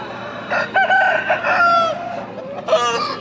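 A yellow-feathered rooster weighing about 4 kg crows loudly nearby in a drawn-out call at a poultry market in Pileru, followed by a second shorter crow, with no talking.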